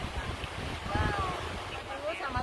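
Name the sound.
strong wind on beach microphone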